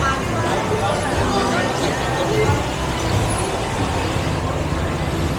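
A bus moves through busy Bangkok Chinatown street traffic, its steady engine rumble blending with passing vehicles and a continuous murmur of crowd chatter at a constant, fairly loud level.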